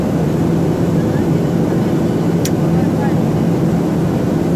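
A steady, loud cabin roar fills a Boeing airliner in flight: a constant broadband drone with a low hum, unbroken throughout with no speech.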